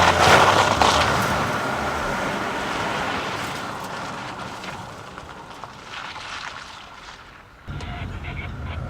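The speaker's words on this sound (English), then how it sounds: "Let's feel 240 horsepower worth of Discovery Sport." A 240-horsepower Land Rover Discovery Sport accelerates on a course, its engine a steady broadband roar that builds and holds, dips briefly near the end, then resumes, close and loud with no talk.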